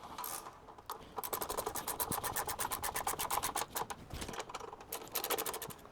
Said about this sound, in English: we'll go ahead and tighten the stay brackets up here